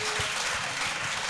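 A crowd at an evangelical salvation, healing and deliverance crusade in Bafoussam applauds and cheers loudly in a dense, continuous burst of clapping and voices.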